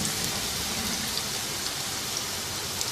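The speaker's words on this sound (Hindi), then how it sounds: "बस 2-3 मिनट इनको मज़ीद फ्राई करेंगे।" Potato pieces fry in hot oil, a dense, steady crackling sizzle that holds evenly throughout without a break, close and moderately loud, with no voices.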